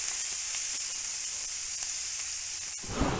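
Sucuk sausage and onions sizzle steadily on a grill, a dense, even hiss throughout with a slight bump of added crackle near the end.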